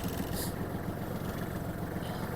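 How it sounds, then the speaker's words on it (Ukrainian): A Kubota GL-280 mini-tractor engine idles steadily close by while warming up, a low, even chugging rumble that holds constant throughout with no voices. "Дамо двигуну трішки прогрітися"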